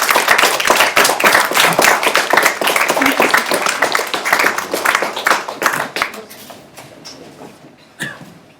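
Loud audience clapping at a poetry book launch in a cafe, dense and steady for about six seconds, then thinning to scattered claps and a last few late claps; faint voices underneath.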